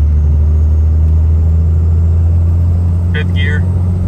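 Heavy low drone of a Cummins diesel truck engine in fourth gear, held near 2,000 RPM and surging slightly, recorded from inside the cab as a loud, continuous rumble.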